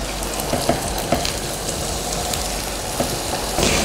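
Bean sprouts stir-fry in a pan with dissolved seasoning, giving a steady close sizzle. Occasional sharp taps and scrapes of stirring sound over it, and no one speaks.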